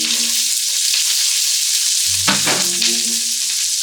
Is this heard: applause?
no